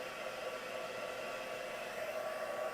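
A hair dryer or heat tool blowing a steady, fairly quiet whoosh over a paper card, continuous and unbroken with no voices.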